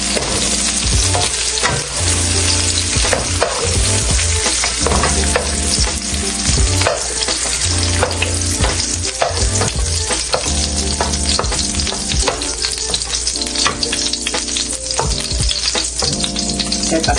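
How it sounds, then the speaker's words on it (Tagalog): Marinated beef fries in a hot pan, with continuous loud sizzling broken by repeated scraping and stirring strokes in a steady rhythm, no talking. "Dito na rin po tayo mag-prito ng beef."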